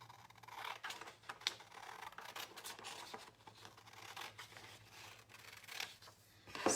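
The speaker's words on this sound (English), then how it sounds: "then I cut the other line that I marked" Scissors snip along a marked line in a paper sewing pattern, a quiet run of soft crisp cuts and rustles, close and faint with no voices.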